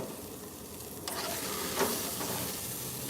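Steak and corn cooking on a barbecue grill, the corn on fire, give a steady sizzling, frying crackle that stays even throughout with a slightly louder flare partway through.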